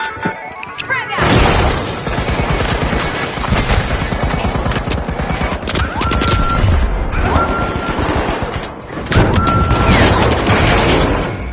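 Chaotic combat in the arena game The Finals, with a frag grenade blast, shattering debris and bursts of automatic gunfire packed close and loud, while a voice calls out over the din.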